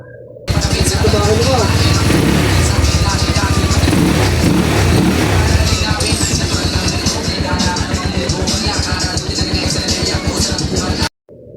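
A motorcycle engine idles steadily right after an oil change, a loud, close, even mechanical thrum with rapid regular firing pulses and light clatter that runs continuously for about ten seconds before cutting off.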